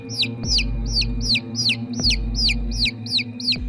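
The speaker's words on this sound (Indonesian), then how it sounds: "mendadak aku terbangun ketika mendengar suara anak ayam" Chicks peep in a horror story set at night: about ten sharp, loud, high cheeps repeat at a steady pace over a low background hum.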